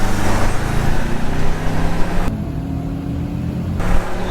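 An Audi S4 B6 car driving in third gear gives a steady, loud engine drone heard from inside the cabin, with a brief shift in tone partway through and a slight rise at the end.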